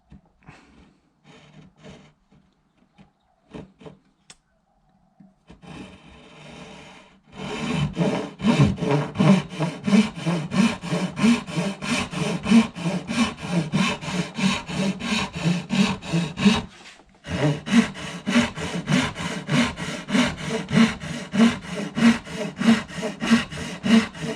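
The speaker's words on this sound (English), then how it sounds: "practice of cutting a dovetail angle" A hand saw cuts a dovetail angle in wood: a few tentative strokes, then a long run of fast, even rasping push-pull strokes, a brief pause, and more rhythmic sawing, close and clear.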